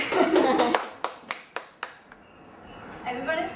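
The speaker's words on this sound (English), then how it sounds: "Big clap for चाची please." Several sharp hand claps for an aunt at a family Rakhi gathering in Mumbai, first under lively children's chatter, then a handful of distinct slow claps, then quieter with voices returning.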